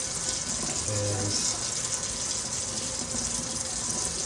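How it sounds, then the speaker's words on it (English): Warm water runs from a tap in a steady, hissing gush that stays constant throughout, fairly quiet overall, with a brief voice low underneath near the start. "so what I'm doing right now is just getting some warm water going."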